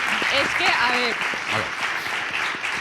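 An audience applauds Berta during a lively interview, steady broadband clapping filling the room while voices keep talking over it.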